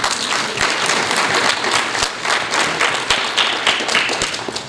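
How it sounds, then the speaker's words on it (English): An audience at a school MLK program applauds students: dense, sustained clapping from a crowd, close and fairly loud throughout, with a few sharper individual claps standing out. "Let's give each of the students a round of applause now."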